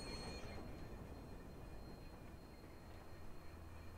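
A train in the Watch Dogs video game, a steady low rumble of rolling railcars with a faint thin squeal at the start, fairly quiet and alone.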